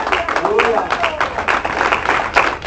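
A church congregation applauds, with dense clapping from many hands rising and falling over a couple of seconds. A preacher's voice carries above it.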